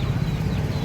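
Rooster clucking among fowl at a busy poultry market in Miraj, a low murmur of bird sounds with a few soft clucks over a steady market hum.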